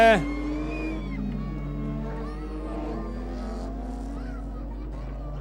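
Rallycross race cars launch off the start line at a race in Kenya, their engines a steady distant roar under a commentator's continuous excited talk.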